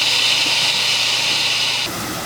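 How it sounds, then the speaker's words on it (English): Boneless pork ribs hit a hot pan and sizzle with a loud, steady broadband hiss that drops off abruptly near the end, no talking over it. "that's what you want to hear when you add your pork to the pan. You want to hear that sizzle."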